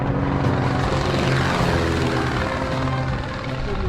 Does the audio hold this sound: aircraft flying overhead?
yes